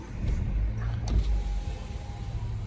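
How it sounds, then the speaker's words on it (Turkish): A Dacia Duster's electric power window motor whirs as the glass opens, a short steady hum heard close up inside the car against low cabin rumble. "şu camı açalım."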